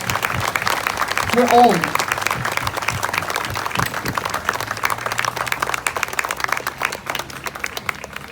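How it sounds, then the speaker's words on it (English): Loud, sustained audience clapping at an inspirational speech, honoring the Parikh family; a voice speaks briefly over the applause near the start. "Let's give a huge round of applause to them for all the work that they're doing"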